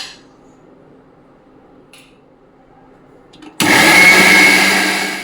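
A mixer grinder kicks on abruptly after a quiet stretch, blending rice, semolina and sour curd into a paste with a loud, steady whir that slowly eases toward the end.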